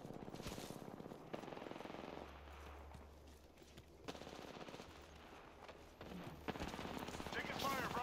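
Rapid automatic gunfire in the Apex Legends battle royale shooter, with dense crackling bursts throughout under excited player talk and game noise.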